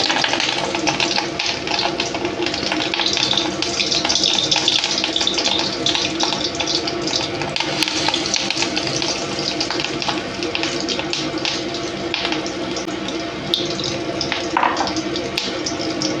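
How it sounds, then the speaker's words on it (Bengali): Batter-dipped fish roe fritters fry in hot oil in a heated kadai, giving a steady, dense sizzle and bubbling hiss that runs evenly throughout. "এবার আমি মাছের বড়াগুলো ভেজে নেব"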